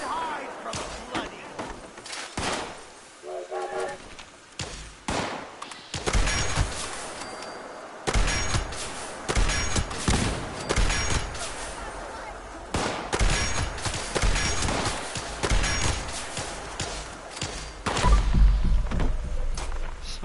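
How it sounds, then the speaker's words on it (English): Plasma weapons fire in Fallout 76, rapid bursts of loud cracking shots and thuds spread across the scene, mixed with other game noise and a voice talking in between. "Somebody down here shooting some plasma, something."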